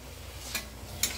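Fish gravy with two big spoonfuls of tomato sauce being stirred in a pan, two brief scraping strokes of the spoon over a faint steady simmer.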